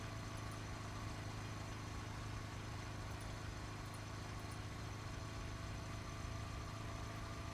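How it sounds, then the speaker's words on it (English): A car engine running steadily while driving along a winding mountain road in the video game Raging Loop, a constant low droning hum with no talking. "I just kept on driving, not lowering my speed for a moment."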